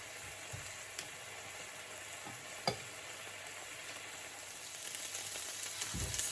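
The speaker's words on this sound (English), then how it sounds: "I'm going to leave this again for another 3 to 4 minutes, just for the steak to finish cooking." Pepper steak coated in spice paste sizzles steadily in a pan, a constant bright frying hiss with a few small pops and stirring clicks, alone without talk.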